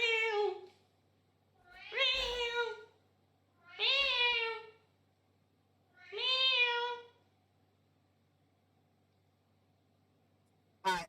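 A house cat meows four times in separate drawn-out cries spaced about two seconds apart, close and fairly loud against a quiet room with a faint steady hum, ending with a short sharp click.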